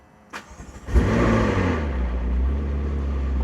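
Two sharp clicks precede the 3.8-litre 2012 McLaren MP4-12C Spider firing up in active mode, bursting into a loud, deep exhaust roar that settles into a strong, rumbling idle.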